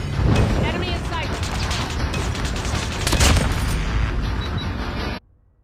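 Loud, continuous rapid gunfire in a video game shooting down birds, a dense unbroken burst lasting about five seconds before cutting off abruptly into near silence.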